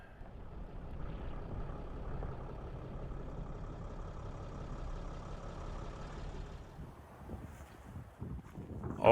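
Strong wind gusts buffet the microphone outdoors near a trailer under blue sky, a continuous low roaring rumble that swells louder toward the end.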